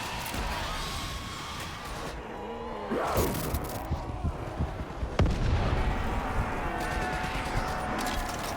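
Video game gunfire, a series of sharp shots and booming artillery-like blasts scattered over rumbling background action, with one especially crisp crack partway through and repeated bursts afterward.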